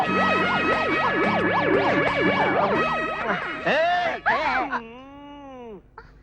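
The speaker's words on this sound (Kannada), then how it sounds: "ಏನ್ರಿ ಇದು ಸೈರನ್ ಸೌಂಡು?" A wailing ambulance siren rises and falls rapidly, then shifts into slower, sweeping tones before fading out abruptly.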